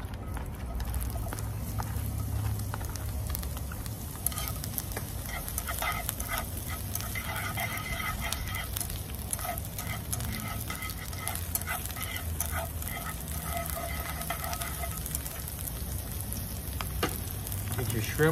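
Onion sizzling in a hot skillet while an udon soup stir-fry is made: a soft, continuous frying hiss that runs unbroken, fairly faint and close, with no voices.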